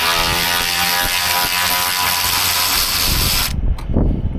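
A ratchet loosens a 10mm bolt under a Nissan, giving a dense, steady mechanical whir for about three and a half seconds before it stops and a few soft clunks follow.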